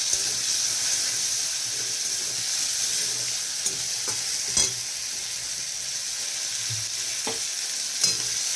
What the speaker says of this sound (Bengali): চিংড়ি মাছটা হালকা করে ভেজে নিয়েছি, এটাকে তুলে নেব